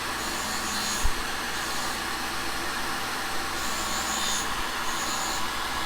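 A vacuum cleaner runs in a machine shop beside carbide grinding on brazed carbide angle cutting bars, a steady loud whooshing drone with a couple of brief bumps.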